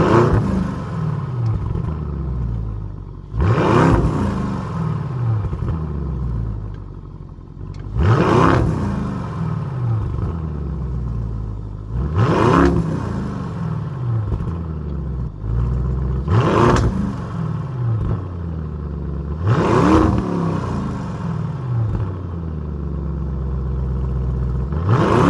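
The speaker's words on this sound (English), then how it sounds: "So listen to these three modes coming from this exhaust." A Lamborghini Urus exhaust in Neve mode is revved hard about six times, each sharp, loud blip rising and falling back to a throaty idle rumble between bursts, close to the tailpipes.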